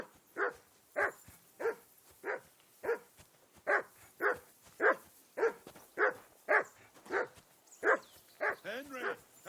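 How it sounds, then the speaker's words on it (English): A dog barks steadily and repeatedly in the video game Kingdom Come Deliverance 2, about fifteen evenly spaced barks at moderate distance, ending in a quick whimpering yip, with no talk over it. "I assume you can hear that damn dog of yours barking."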